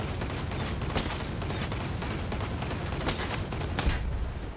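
Gunfire from Ghost Recon Breakpoint as a player takes out an emplaced gun: a dense, sustained burst of rapid shots and rattling impacts, loud and continuous throughout with no talk.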